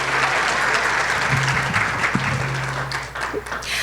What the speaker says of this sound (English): And we can applaud.